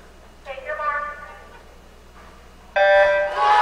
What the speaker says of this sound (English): there's the buzzer to start their 200-yard medley relay